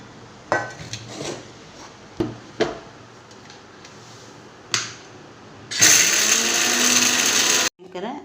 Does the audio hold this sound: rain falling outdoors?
no